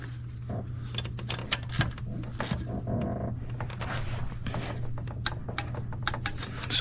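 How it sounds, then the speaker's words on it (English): A torque wrench ratchets and clicks while tightening an intake manifold bolt on a Sprinter van, sharp irregular metallic clicks close by over a steady low hum in a garage setting. "So now we're going to torque the bolt on the driver's side"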